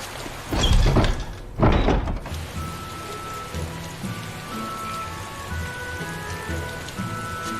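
Rain falling in the video game Tales of Berseria, a steady patter under two heavier thumps early on, with faint tonal music lines drifting through the later part.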